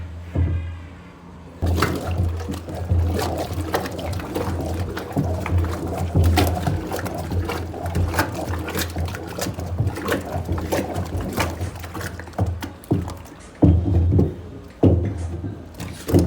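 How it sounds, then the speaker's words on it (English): Five liters of water poured into a liquid soap mixture, a sloshing, gurgling splash that keeps going with uneven surges, ending in a few heavier splashes. "So we pour the 5 liter water into this."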